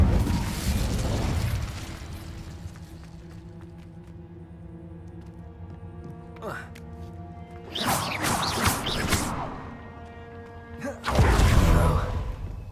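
Fire spell cast in Hogwarts Legacy, with bursts of whooshing crackle and flaring blasts at intervals, loud and close, separated by quieter ringing tonal stretches.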